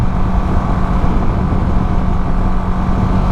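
A Yamaha Sniper VVA and an R15 v3 motorcycle accelerating, a loud close engine drone with a steady low rumble and throaty buzz, continuous with no talk.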